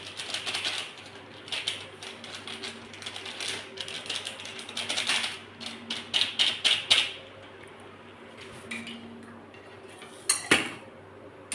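Misal curry seasoned with salt and misal masala is stirred in a metal pot, a spoon clinking and scraping in irregular bursts with brief pauses and one sharp knock near the end, with no talking.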